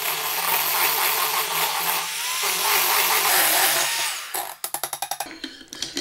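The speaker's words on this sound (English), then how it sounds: "blend that all together" A hand mixer or blender whirs loudly and steadily while ingredients for a lemon dessert are mixed in a bowl, then cuts into a series of short, choppy bursts near the end.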